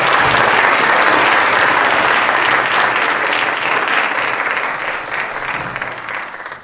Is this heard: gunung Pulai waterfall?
no